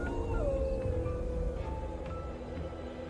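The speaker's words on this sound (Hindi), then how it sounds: "कुत्ते रोने लगे।" Dogs howl at night during a sudden storm: long, loud, wavering wails that bend up and down in pitch and overlap one another over a low rumbling background, with no talk.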